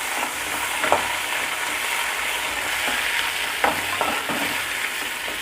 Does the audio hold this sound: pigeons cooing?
no